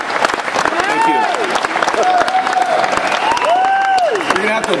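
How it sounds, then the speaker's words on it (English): An audience applauds at an economics talk, with dense clapping throughout while a voice speaks over the crowd. "You're going to have to applaud louder to make up for all the empty seats."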